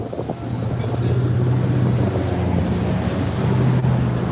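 A car passes in street traffic in Yakima, Washington, a loud close engine drone and tire roar holding steady throughout, with no talking.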